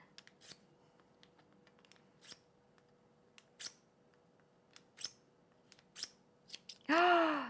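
Scissors cut through paper during scrapbooking, sparse crisp snips scattered at irregular intervals, fairly quiet and close, followed by a louder rustle at the end.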